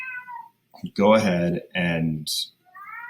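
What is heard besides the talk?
cat meowing loudly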